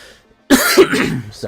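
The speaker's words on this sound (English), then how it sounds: "I'm coughing real bad." A single harsh cough bursts out close by after a short quiet stretch, followed by rough throat-clearing.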